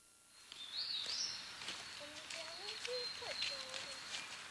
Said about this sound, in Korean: 새들의 치적임 소리로 시작되는 이른 아침.